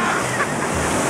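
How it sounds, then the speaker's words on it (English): Ocean waves surge against a cliff edge in Puerto Rico, a loud, dense roar of rushing surf and wind, continuous and close for about a second, with no clear talk. "every time you say, Jacinto, bring the cow, that the water comes up"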